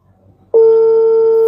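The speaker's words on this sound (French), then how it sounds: "Et puis, ça appelle vidéo. On appelle en vidéo." A phone video call tone starts abruptly after a near-silent moment and rings as a loud, steady electronic hum that holds unbroken to the end.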